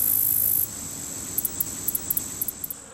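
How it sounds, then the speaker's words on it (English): A katydid rubbing its wings together, a short series of crisp, high-pitched chirps in quick irregular pulses over a soft background hiss, following a brief steady high buzz at the start. "The katydid makes its distinctive sound by rubbing its wings together."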